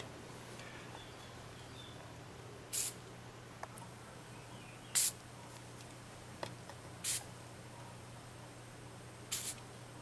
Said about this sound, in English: we're going to spray a little of this on here